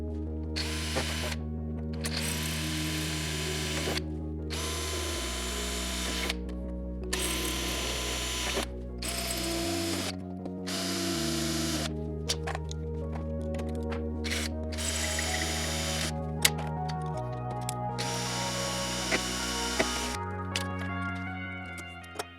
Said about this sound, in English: I'll just go ahead and pop my holes from the inside out using my long flexible 3/32 bit here